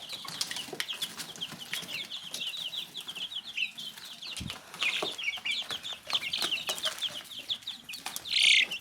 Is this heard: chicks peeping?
yes